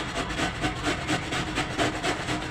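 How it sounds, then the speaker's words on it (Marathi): A halved cabbage being shredded finely on a hand grater in a kitchen, giving close, rapid, rhythmic rasping strokes that repeat evenly without pause. "किसणीने मी किसून घेते"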